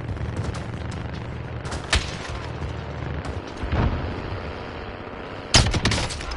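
Sniper rifle fire in the video game Warzone: a few sharp, loud single shots spaced apart over a low, rumbling game background, with no talking.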